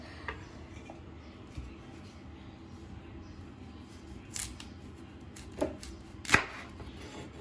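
Broccoli stems being cut into small pieces on a kitchen board, a few sparse, sharp knife chops near the end, close and fairly faint over quiet background.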